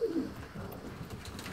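Pigeons in a coop in Mülheim, Germany, coo in low, soft repeated throaty notes close by, with faint rustling and no talk.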